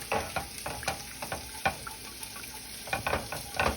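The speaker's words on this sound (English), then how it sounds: "you just keep stirring it" A spoon stirs a vegan mashed potato mixture as liquid is added, producing quiet, irregular scraping and sloshing strokes with a faint sizzly hiss, close by and without talk.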